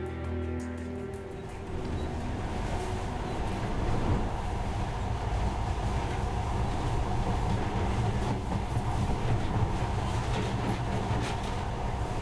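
A monorail ride in the video game Metro Last Light: a continuous low rumble and rolling hum of the car in motion, steady and fairly loud from start to finish with no talk.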